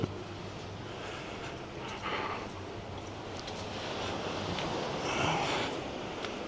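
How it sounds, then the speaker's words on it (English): Sea waves wash onto the shore on a sunny day in Tenerife, a steady rushing surf with wind noise across the microphone, swelling louder toward the end. "Sound of the sea."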